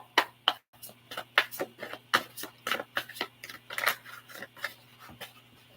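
Tarot cards being laid out during a love reading, heard as a quick series of crisp slaps, flicks and shuffling clicks, close and fairly quiet, with no talking.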